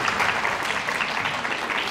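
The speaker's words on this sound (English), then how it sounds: "So big round of applause" Audience applause fills a short stretch at a campus talk, steady dense clapping of moderate loudness with no break.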